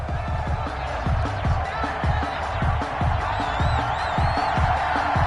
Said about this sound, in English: This crowd is ready as their guys get set to match up between the Cincinnati Bengals and the Indianapolis Colts.